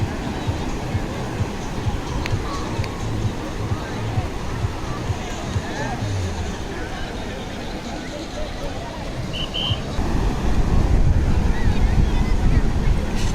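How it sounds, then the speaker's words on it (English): Rough sea surf rolling onto Colva Beach in Goa, a steady broadband wash of breaking waves with wind buffeting the microphone, growing louder toward the end; voices are faintly present in the background. "The waves are kind of rough right now"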